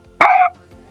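A voice imitates a lion's roar that fails: one short, strangled burst that cracks off abruptly into a hiccup-like catch, close and loud against silence.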